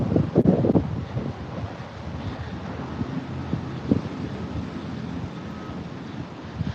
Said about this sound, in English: Oh, it's a little breezy. The gusts are starting.